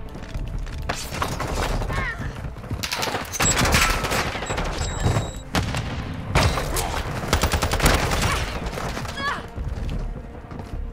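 Bursts of rapid assault rifle fire from the ISO Hemlock in Modern Warfare 2, loud and close, coming in several sustained volleys with short pauses between them.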